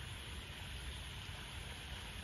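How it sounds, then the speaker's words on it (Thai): Water runs down a rural farm-garden canal after evening rain, a faint, steady, broadband rushing hiss that continues unbroken with no voices. "เสียงน้ำมันมาจากทางอื่นนะจ้ะมันไหลลงมา"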